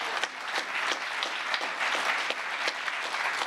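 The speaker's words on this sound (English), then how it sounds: "how about a round of applause for Chief Master Sergeant Roger Tauberman" An audience at a ceremony marking the first birthday of the U.S. Space Force applauds the first enlisted member, dense sustained clapping from many hands at a steady, fairly loud level throughout.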